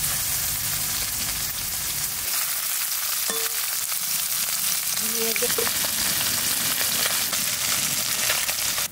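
Small khoira fish seasoned with salt and turmeric fry in a pan of oil, giving a dense, continuous, close sizzle with faint stirring clicks and no voices.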